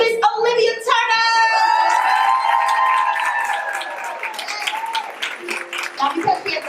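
An audience at a university conference breaks into applause and cheering for Miss Olivia Turner, with a loud whoop at the start and clapping tapering off as an announcer speaks over it.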